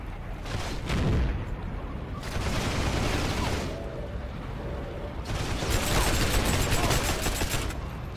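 Bursts of automatic gunfire from a strafing run in the World War II shooter game Heroes and Generals, with dense rattling volleys at close range in several waves and brief quieter gaps between them.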